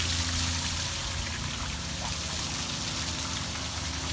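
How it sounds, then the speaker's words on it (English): Water drains steadily from the tank of a Holcombe mixer during winterizing, a continuous close rushing trickle with no pauses, fairly loud and alone. "Go ahead and drain your water tank out."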